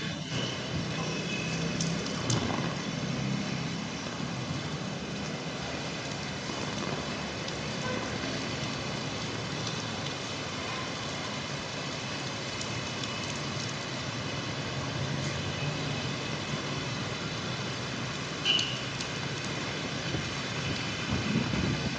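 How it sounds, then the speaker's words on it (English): Heavy rain pours steadily onto a Saigon street near Ben Thanh Market, a dense, unbroken hiss that holds at an even level for the whole stretch with no voices. "It's still raining heavily here."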